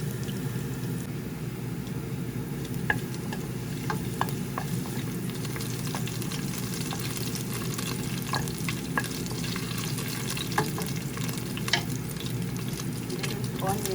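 Onion sautéing in oil previously used to fry garlic for pork kaldereta: a steady, low sizzle throughout, with occasional soft clicks of stirring.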